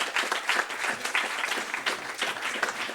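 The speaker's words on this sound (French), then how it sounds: "Qu'on peut applaudir les uns après les autres" Audience applause at an award ceremony, a dense and steady clapping of many hands through the whole stretch, moderately loud with no break.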